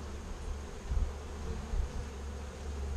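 Honey bees from a swarm crawl over hive frames during an inspection, giving a steady, low, continuous buzzing hum at moderate volume with no talk.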